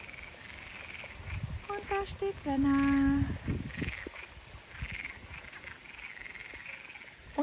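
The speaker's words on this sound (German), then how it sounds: "Hier quaken die Frösche." Frogs croaking at a scenic campsite near Aljezur on the Portuguese coast, a run of loud, rapid croaks bunched in the middle, with someone speaking over the calls.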